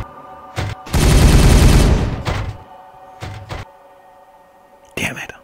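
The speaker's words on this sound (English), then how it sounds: "Open fire!" Ragged volley of gunfire erupts on command: a short crack, then a dense, loud burst of overlapping shots lasting about a second, followed by scattered single reports and a final sharp shot.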